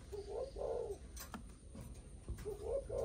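A six-month-old male dove of a Malaysian line coos in repeated rounded phrases, a pair of notes at the start and again at the end, with a quiet gap and faint clatter between.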